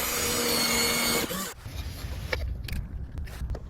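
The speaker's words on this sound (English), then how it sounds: "But first, I'm going to pre-drill the holes." A drill bores pilot screw holes into wood for a doorbell mount, a loud steady whine for about a second before cutting off, followed by faint scraping, handling and a few light clicks.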